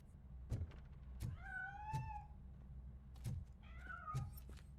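Cat meowing in the video game RoboCop: Rogue City, a few distinct meows spaced over a few seconds over low rumbling ambience and soft thuds.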